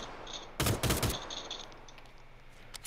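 A quick cluster of sharp gunshots rings out in PUBG, three or four loud cracks packed into half a second, then fades to faint ambient game sound.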